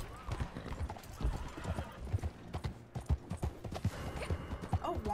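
Horse hooves clip-clop in a steady galloping rhythm with neighs and whinnies, close and clear, in the Western video game Red Dead.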